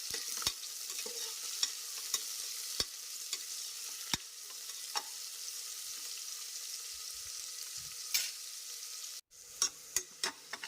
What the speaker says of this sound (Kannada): ಈರುಳ್ಳಿನ ಎಣ್ಣೆಯಲ್ಲಿ ಹುರ್ಕೋಬೇಕು.